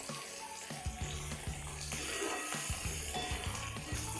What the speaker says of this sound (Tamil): கொஞ்ச நேரம் பூண்டு வதங்கட்டும்.